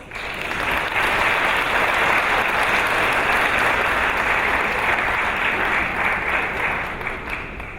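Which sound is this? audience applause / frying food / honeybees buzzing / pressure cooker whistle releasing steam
audience applause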